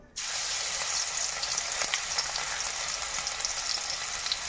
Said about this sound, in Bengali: ফোড়নের জন্য এখানে রসুনটা দিয়ে দেব রসুনটাকে খুব বেশি ভাজবো না আমি